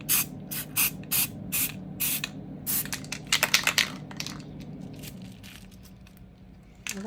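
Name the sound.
spray paint can spraying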